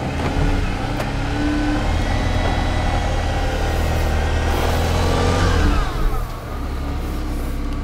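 A Renault Arkana 1.3 Turbo strains off-road, its engine droning loud and steady for several seconds before easing off, with a faint whine of spinning wheels and no talk.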